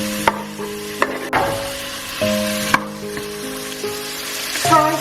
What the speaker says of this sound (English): Fry the onions till they turn a deep caramelized brown.